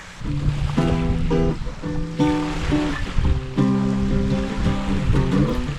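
Steady wash of surf rolling in the background beneath close, melodic acoustic guitar strumming that continues throughout.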